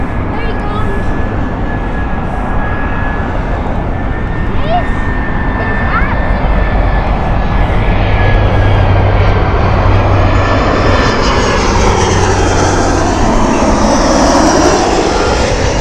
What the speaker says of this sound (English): The smallest Airbus A320 series aircraft you'll get here.